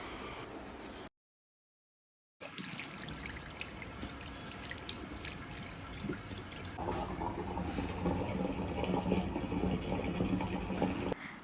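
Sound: child brushing teeth with water running at sink

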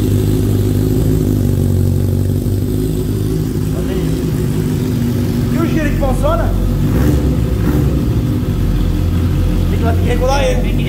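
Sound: Honda CG motorcycle with Hornet engine running, no radiator

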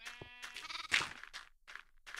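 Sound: sheep bleating in a video game

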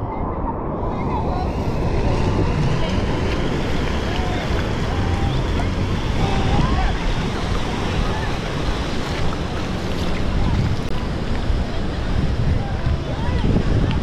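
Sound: ocean waves breaking at the beach

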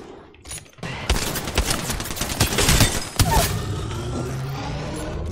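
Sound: gunfire in the video game Apex Legends

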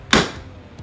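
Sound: whacking the air intake with a tool

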